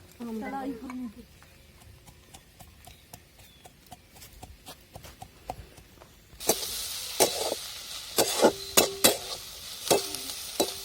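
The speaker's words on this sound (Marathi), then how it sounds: "चांगला असा लाल जरा परतून द्यायचा कांदा म्हणजे कच्चा राहत नाही" Finely chopped onion sautéing in a pan until reddish, a loud frying sizzle that starts partway through, punctuated by sharp rhythmic clacks of a spoon stirring against the pan, with faint voices earlier.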